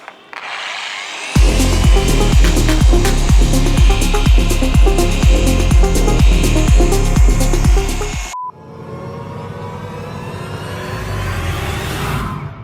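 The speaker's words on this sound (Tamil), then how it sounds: "ஸோ வந்து பாலிஷிங் ட்ரீட்மெண்ட் வந்து இப்போ ஸ்டார்ட் பண்ணலாம்." Polishing machine working on a Himalayan 450 motorcycle, a loud rough whirring grind with rapid rhythmic pulsing that cuts off abruptly, followed by a softer lower rushing drone.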